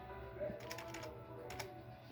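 A few soft keystrokes on a computer keyboard in a room where a shortwave radio is being scanned, faint clicks heard over a steady hum of radio static.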